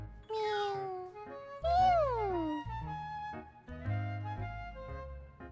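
A video game cat meows twice in long, drawn-out cries, close and clear, followed by softer background sounds and faint game music.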